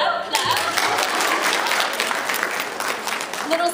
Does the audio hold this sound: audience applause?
yes